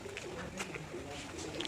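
Soft, repeated pigeon cooing at a farm house carries on steadily over a constant ambient hiss, with a few brief brighter chirps here and there.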